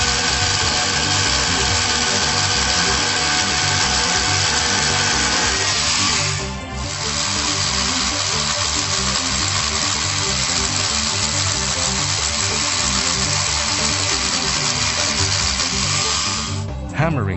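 Hitachi DH24PC3 SDS-Plus rotary hammer drill running, a loud steady motor drone with rapid hammering rattle, pausing briefly midway before continuing to the end.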